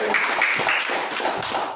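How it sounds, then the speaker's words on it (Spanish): A church congregation claps together in a dense, steady round of applause that fills the room at moderate loudness. "¿Le dan un aplauso a Dios?"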